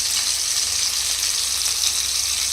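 Chicken pieces for Arabian chicken mandi biryani fry in a pan, producing a loud, steady, close sizzling hiss without break or any voices.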